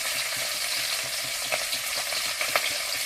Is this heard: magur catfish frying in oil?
yes